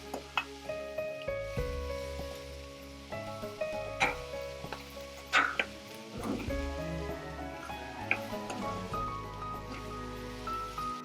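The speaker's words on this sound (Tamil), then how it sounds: "காய்கறி ஓரளவு வதங்கின அப்புறமா இதில் சாமை போட்டு ஒரு 2 மினிட்ஸ் வதக்கிட்டு" Vegetables and little millet sauté in a pan for upma, giving a soft, continuous sizzle broken by intermittent stirring clinks and scrapes.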